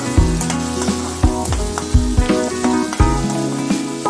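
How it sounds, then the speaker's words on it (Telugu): Onions frying in oil in a pan for a pasta dish, a steady sizzle with repeated sharp crackling pops at a close, fairly loud level and no talking. "మనము ఆయిల్లో ఫ్రై అవ్వనిస్తాం ఆనియన్స్ని"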